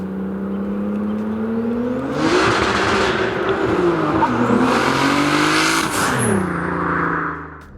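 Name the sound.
turbocharged BMW E36 M3 engine accelerating with open wastegate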